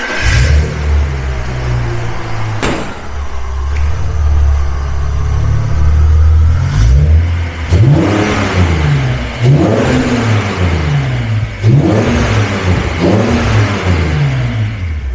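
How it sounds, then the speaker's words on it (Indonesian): A 2004 BMW 330Ci E46 six-cylinder exhaust idles with a deep rumble, then revs repeatedly in rising and falling bursts, loud and close, with no talking. "suara daripada mesin apa BMW 6 silinder itu nggak tergantikan"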